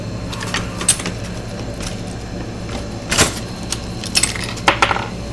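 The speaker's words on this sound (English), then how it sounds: "And another bullet drops out." A Lee Pro 1000 reloading press cycling 9mm Luger rounds, with several sharp metallic clinks and rattles as cartridges drop out, spaced irregularly over faint mechanical background noise.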